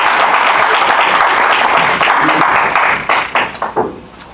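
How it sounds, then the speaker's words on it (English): An audience at a poetry night applauding the poets, dense sustained clapping that tapers into a few scattered claps at the end. "Let's give another round of applause for those original speakers."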